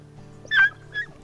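Two short, high whimpers from wolf puppies in a video game, the first louder and longer, rising over a faint steady hum, like young canines whining softly.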